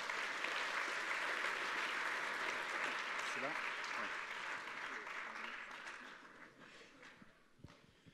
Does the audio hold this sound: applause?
yes